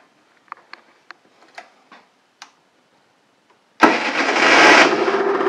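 A moped with an AM6 engine and a modified air box is cranked with a few soft ticking clicks, then fires up abruptly and settles into a loud, steady, buzzing two-stroke idle close by.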